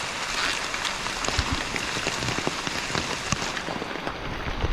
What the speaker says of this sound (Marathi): एवढा पाऊस चालू आहे तीन चार दिवसापासून रत्नागिरी जिल्ह्यामध्ये